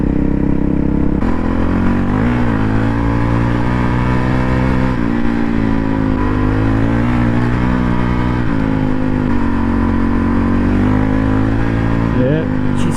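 Honda CRF450 rally motorcycle with extra weight on the front, ridden hard enough to lift the front wheel, its engine droning loud and steady throughout with rising revs and shifting pitch near the end.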